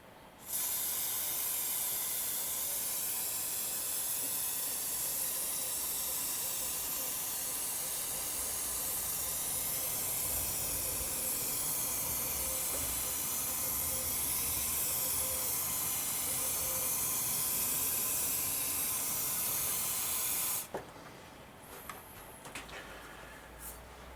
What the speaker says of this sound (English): Get some hairspray and very gently